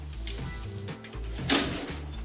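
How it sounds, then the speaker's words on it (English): A potato cake sizzles steadily on a steakhouse grill, a soft continuous crackle with a brief brighter hiss burst midway. "I'm gonna put it back on the grill like for another 4 minutes."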